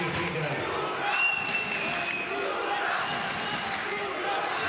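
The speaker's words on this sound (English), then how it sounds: "Some chants from the crowd here at the SKK Arena" A crowd at the SKK Arena for a men's Greco-Roman wrestling event, a broad, reverberant wash of voices and clapping that holds steady throughout, fairly distant and moderately loud.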